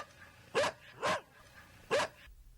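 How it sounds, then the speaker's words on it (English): A dog barks three times, close and loud, with clear gaps between the sharp barks and a low background hum. "Dog."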